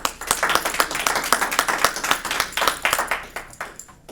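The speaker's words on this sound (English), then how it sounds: "if you all join me in giving Roberta a nice round of applause" A small audience claps for poet Roberta Gould at an evening poetry reading, with distinct individual hand claps in a brisk, uneven patter that tapers off near the end.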